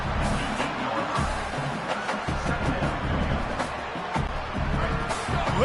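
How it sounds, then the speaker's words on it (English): A large stadium crowd at a football game roars and cheers loudly, a dense, continuous wall of noise with no pauses. "Listen to this crowd just shaking the girders of this place, trying to help their defense."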